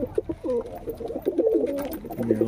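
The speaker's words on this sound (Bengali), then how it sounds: "পায়রাগুলো নিচু নেমে পড়েছে খাবারের জন্য" Pigeons that have come down to feed coo close by in short, repeated throaty bursts, with a light background bustle.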